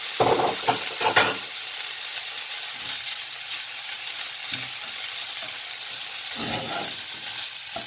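Onion and chopped ham frying in a pan for Cuban-style fried chickpeas, a steady close sizzle with scraping stirs bunched at the start and again near the end.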